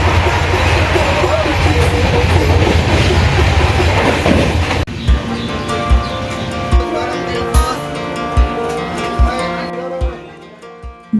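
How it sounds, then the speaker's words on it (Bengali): The Shantiniketan Express pulls out of the station at Bolpur with a loud rumble, then settles into steady, evenly spaced clickety-clack wheel beats that gradually fade. "ট্রেনটি ঠিক 1:15 স্টেশন ছেড়ে চলল।"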